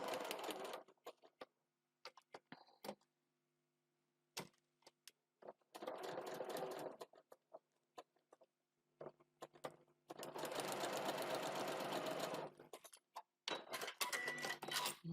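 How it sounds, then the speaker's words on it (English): A sewing machine stitches fabric with a short stitch length in rapid mechanical bursts of whirring needle strokes, each lasting about a second to two seconds, separated by pauses and clicks of the handwheel. "I'm stitching with that shorter stitch length"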